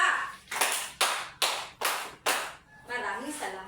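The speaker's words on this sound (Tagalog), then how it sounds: "Bigyan natin si Clyde Dave at Jillian ng 5 palakpak." A primary-school class gives five sharp, evenly spaced group claps in unison, each a loud burst with a quick decay, followed by a teacher speaking.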